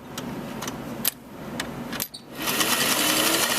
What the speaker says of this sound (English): I'm going to stitch it all the way to the top